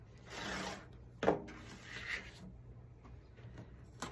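Sides of a scrap quilt block are trimmed square on a cutting mat, giving soft rasping and rubbing strokes with one sharper scrape in the middle, close and fairly quiet.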